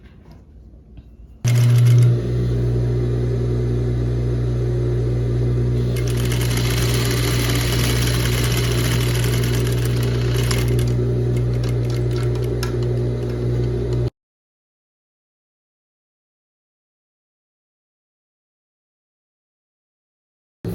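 An overlock sewing machine finishing a blouse seam runs with a loud, steady mechanical whir for about twelve seconds after starting abruptly, then stops into silence.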